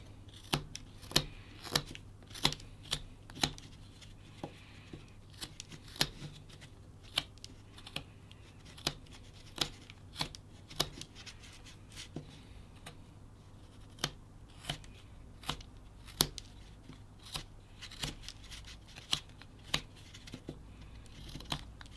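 Knife whittling a small wooden ghost figure, producing a steady series of sharp, close scraping cuts and clicks at an uneven rhythm, with no talking.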